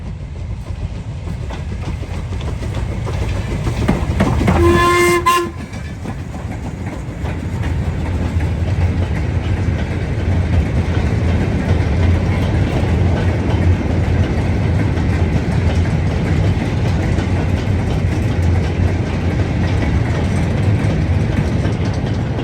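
A Bachmann LNER K3 model locomotive hauls Great Western rolling stock around a model railway track, a steady close rumble and fine clicking of wheels over rail joints, broken by a brief high whistle-like squeal early on.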